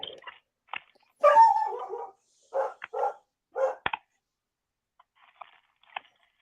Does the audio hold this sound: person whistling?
no